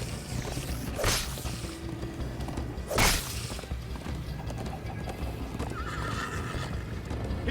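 Galloping horse in the Minecraft Story Mode video game, with two sharp neighs about two seconds apart over rapid clip-clop hooves and rushing whooshes, a background score running underneath.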